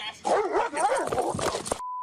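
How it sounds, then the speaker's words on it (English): A police K-9 dog barks, whimpers and yips up close during an arrest on grass, its agitated sounds continuous and loud, ending abruptly in a steady tone. "That dog biting him on the arm."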